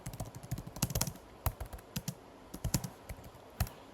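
Python code is typed on a computer keyboard in quick, irregular bursts of close, crisp key clicks with brief pauses between runs, and no talking.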